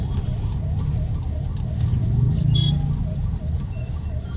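An ambulance siren wails on the road, its rising and falling tone repeating steadily over loud rumbling traffic and engine noise, with short horn-like chirps.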